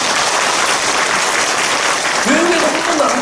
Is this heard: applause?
yes